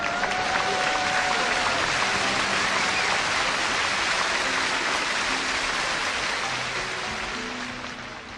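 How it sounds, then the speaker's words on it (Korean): A church congregation gives sustained, dense applause during a Sunday worship service, a loud, even roar of many hands clapping that holds steady for several seconds before tapering slightly at the end. "여러분, 뜨거운 격려의 박수 부탁드리겠습니다."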